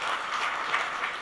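An audience applauds to welcome a government minister at a live Budget 2025 event, a dense, even wash of clapping from many hands that holds steady throughout without pause.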